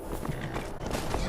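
Horse hooves clatter in Beyond Skyrim, a brief rapid run of clip-clop beats amid dense game ambience.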